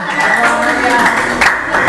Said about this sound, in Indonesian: Tepuk tangan buat Bu Amalia